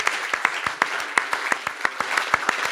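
Brief applause from a small audience at a journalism talk: distinct, sharp claps in a loose, fairly regular rhythm, roughly a dozen and a half strikes, close by and with no talk.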